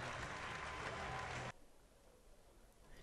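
A stadium crowd of about 7000 at a Frankfurt Galaxy American football game roars and applauds loudly after a touchdown, a dense wash of noise that cuts off abruptly halfway to a quieter murmur.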